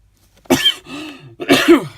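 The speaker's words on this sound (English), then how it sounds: "excuse me while I cough" A person coughs twice, close and fairly loud, with a pause between the two harsh bursts and a brief throaty sound between them.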